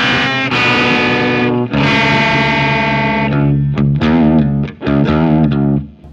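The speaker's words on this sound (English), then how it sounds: "my guitar sounds like this" Distorted electric guitar chords ring out loud and sustained, a couple of long held chords followed by quicker choppy strums.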